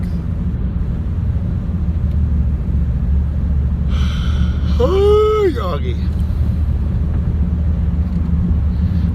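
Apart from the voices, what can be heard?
road traffic heard from inside a car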